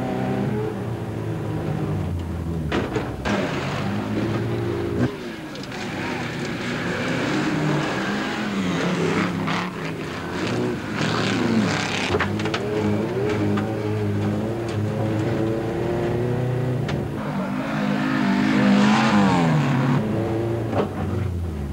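Old, worn folkrace cars in a Swedish race from 1984 rev and roar together at close range, engines rising and falling in a dense continuous mix with occasional rough knocks and bangs as they jostle and crash.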